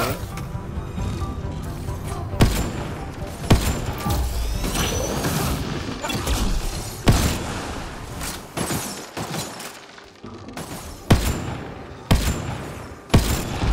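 Gunfire aimed at a turret in Mass Effect Andromeda, a steady clatter of weapon fire broken by sharp loud blasts and crashing impacts at irregular intervals, with occasional faint talk beneath.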